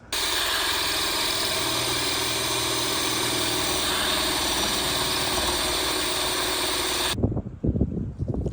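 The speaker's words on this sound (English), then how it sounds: "I'm gonna get to drilling." A power drill runs continuously for about seven seconds, boring holes in the transom of a 1986 Rinker boat, a loud steady motor whine that cuts off abruptly, followed by a few clunks.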